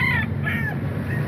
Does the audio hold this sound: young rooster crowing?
yes